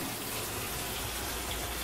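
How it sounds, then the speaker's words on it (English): Water runs steadily from a kitchen sink faucet in an apartment, a constant close hiss and splash with no talking. "I'll run the water to show you"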